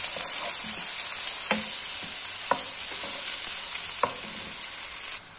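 Onions frying in oil in a pan, a bright continuous sizzle with a few sharp stirring clacks and scrapes spread throughout, close and steady, without any speech.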